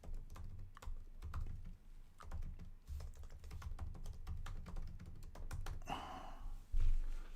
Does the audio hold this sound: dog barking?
no